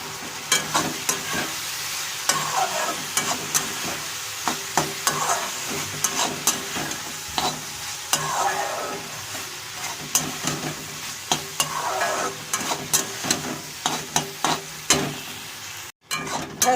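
Okra masala with chopped onion frying in a pan after a spice mixture goes in, a continuous sizzle broken by frequent ladle scrapes and taps, with a brief dropout near the end.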